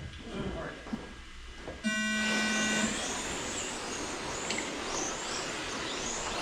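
A start tone sounds at the beginning of an on-road RC car race on a winter carpet track, and then electric cars whine and buzz steadily as they pull away together. Voices are faintly present early on.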